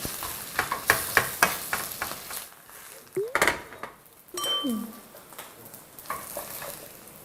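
Spinach pancake batter frying in a pan: a soft sizzle broken by sharp clatters and scrapes of a spatula flipping the pancake, with a voice talking intermittently over it.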